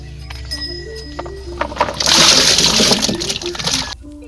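Freshly picked okra and cluster beans splash into water, a loud burst of splashing and sloshing with light clinks, over a constant background hum.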